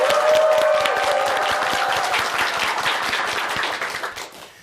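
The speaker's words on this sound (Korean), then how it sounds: "정철규 씨의 강의를 박수로 청합니다." A studio audience claps warmly to welcome a lecturer onto a Korean morning talk show, a full, even round of applause that gradually thins out toward the end.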